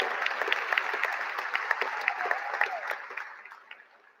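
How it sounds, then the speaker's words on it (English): Applause from a crowd at a 2020 high school graduation ceremony, a dense burst of clapping that holds steady and then fades out over a few seconds. "Give them an applause."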